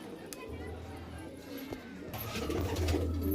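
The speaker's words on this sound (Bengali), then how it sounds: "দেখুন এই দেখুন পায়রা" Golden pigeons cooing in a shop, soft low coos among background chatter and shop noise, with someone speaking over them.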